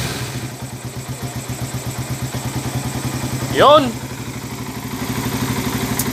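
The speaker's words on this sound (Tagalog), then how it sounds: "So, na-engine refresh tong motor ni Bossing." Carbureted Raider 150 motorcycle engine, freshly rebuilt with a new connecting rod, block, bearings and valve seals, idling close by in a steady rapid pulsing putter, with a short higher burst of sound midway and a voice speaking briefly.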